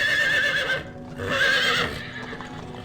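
Horses whinny twice in an audiobook scene, the animals pulling a carriage along a gloomy road; two loud, close, shrill neighs rise and fall, separated by a short pause, with no talk over them.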